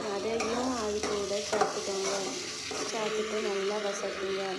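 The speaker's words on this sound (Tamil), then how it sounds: "நல்லா கரண்டி வச்சு வதக்குங்க" Sliced ivy gourd sautés in a pan while a spoon stirs it, giving continuous close sizzling with scraping strokes, while someone talks over it.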